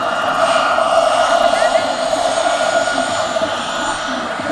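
A Los Angeles firefighter scale model RC helicopter, turbine-powered, runs close and loud with a steady high turbine whine and constant rotor buzz throughout.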